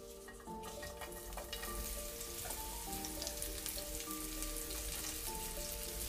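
Half-moon sliced onion sizzles in a pan, a soft steady frying hiss building gently over a few seconds, faint and close, with background music tones underneath.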